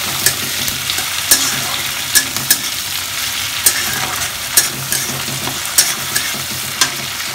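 Tomatoes fry in a pan for chilli chicken, with a steady sizzle broken by regular clacks of a spoon stirring, close and fairly loud, no voices.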